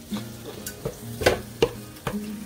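Rice for a homemade burrito bowl, seasoned with pepper, is stirred and mixed in a bowl, with several distinct scraping clinks of a utensil against the side over a soft background hum.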